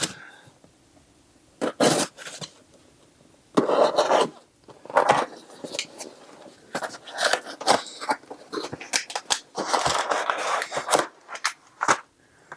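A box holding a Likewise gear shifter, sealed with custom packing tape, being cut and torn open: sharp scraping slits and rustling cardboard bursts in irregular close-up spurts, with short quiet gaps between.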